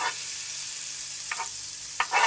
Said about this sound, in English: here I have a pot on the stove and I add at least 2 spoonfuls of butter